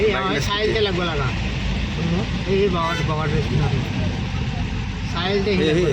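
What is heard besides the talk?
motorbikes and cars passing on a road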